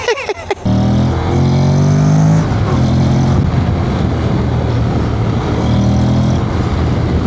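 After a brief rustle, a car's engine revs hard from a standstill toward 100 km/h, rising in pitch, dropping at a gear change, then climbing again, loud and close, with no voices.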